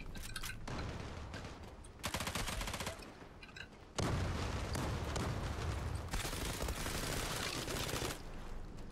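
Bursts of automatic gunfire from an M468 rifle in the shooter game Zula, loud rapid rattling volleys in several stretches with brief lulls between them.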